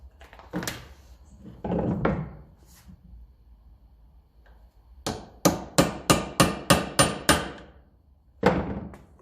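A hammer taps a steel punch against a stuck split pin on a 1954 Ferguson 20 TEF diesel tractor, first in a few scattered knocks, then a rapid run of about seven sharp, evenly spaced metallic strikes, close and loud, with one more blow at the end.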